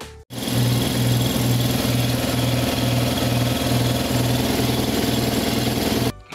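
An air compressor runs steadily at close range, a loud continuous motor drone with a regular pulsing hum that carries on for about six seconds before cutting off near the end.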